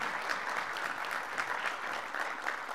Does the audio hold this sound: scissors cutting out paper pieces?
no